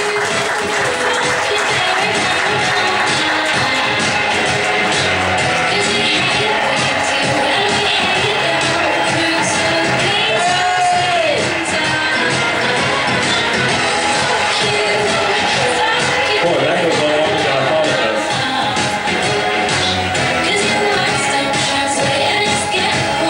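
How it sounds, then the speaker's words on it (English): A live audience claps and cheers as performer David Shelton is welcomed to the stage, a dense, steady roar of applause and crowd noise lasting the whole stretch at a loud, near level. "Give him a round of applause."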